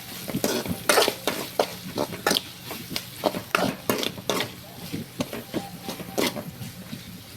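Capsicum stir-fried in a pan with salt, turmeric, chili powder and coconut powder, rhythmic scraping and knocking of a spatula against the pan over a soft steady sizzle, close up, with no talking.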